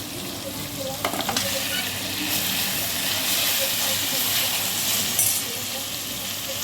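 Green chillies and ginger sizzle and fry in hot oil in a pan while potato sabzi is being cooked, a steady close hiss with occasional stirring scrapes and a brief louder crackle.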